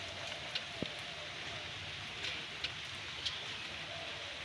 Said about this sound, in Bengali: এখন বৃষ্টি যেভাবে বৃষ্টি হচ্ছে, ঘুরি ঘুরি বৃষ্টি হচ্ছে